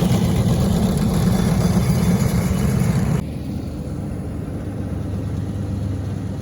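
Rough mower engine running steadily during spring golf course aeration, a loud, close, continuous engine drone that drops in level and tone about halfway through, then carries on with no speech.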